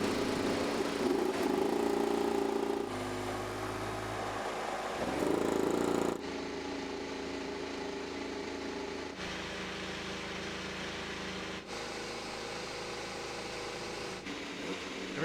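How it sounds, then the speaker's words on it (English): IndyCar race car engines at Road America during the Kohler Grand Prix start, a dense continuous roar of many engines idling and revving together, steady and loud, heard from a distance with shifting tone. "Drivers, please start your engines."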